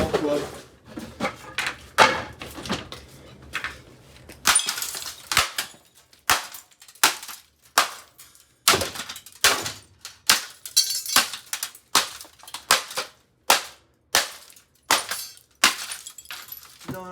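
A golf club smashes a Hamilton Beach microwave, a long run of sharp, loud impacts with glass breaking and metal clattering, spaced about a second apart, with a person talking in the early part.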